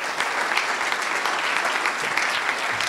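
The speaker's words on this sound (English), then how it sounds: "So can we have a massive round of applause" Dense, steady applause from a large audience after an introduction of a former yacht skipper, an even wash of many hands clapping with no breaks.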